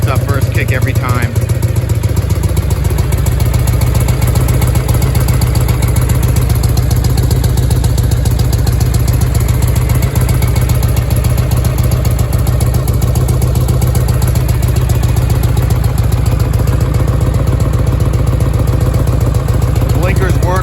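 A 1961 Harley-Davidson FLH Panhead motorcycle engine idles steadily and loudly close by after starting on a freezing cold day, a continuous low rumble running through the whole stretch.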